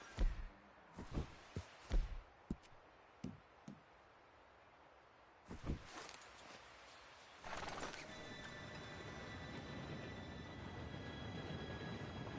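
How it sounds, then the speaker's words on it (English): In Red Dead Redemption 2, scattered hoof clops and clanks give way to a rising, steady rumble of an approaching train that grows louder and fills the last several seconds. "Train should be here any minute now."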